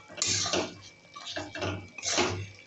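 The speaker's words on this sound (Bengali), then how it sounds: "আমি এবার ঢাকনাটা খুলে একটু নাড়াচাড়া করে দেবো" A lid is lifted off a pot of mustard chicken, and a utensil stirs and scrapes the meat in several short bursts with brief pauses between them, fairly close and moderately quiet.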